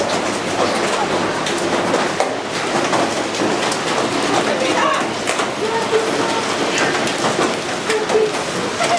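Hailstorm in Canberra, with a dense, steady clatter of hailstones striking hard surfaces close by and filling the whole stretch at high volume, while voices talk over it.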